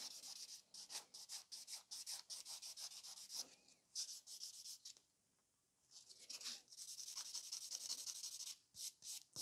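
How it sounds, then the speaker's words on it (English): A nail buffer rubs back and forth across the surface of a thumbnail, giving soft, quick, scratchy strokes close up that stop briefly midway and then carry on, with no talking. "I'm going to quickly buff it the surface"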